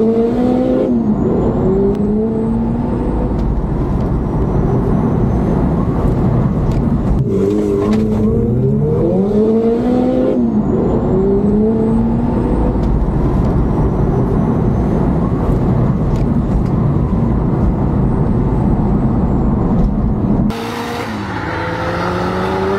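Drag racing cars at a diesel and gas category drag strip roar loudly and steadily, with several rising engine sweeps as cars launch and accelerate, continuing for about twenty seconds before cutting to quieter crowd noise near the end.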